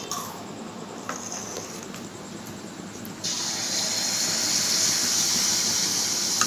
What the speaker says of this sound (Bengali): দেখেন আমি এবার ভাজছি।